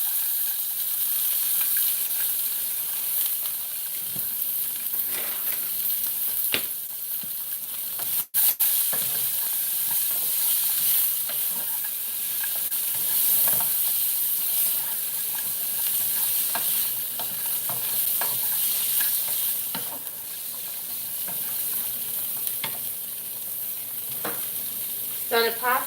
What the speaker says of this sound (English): And let's fry some corn.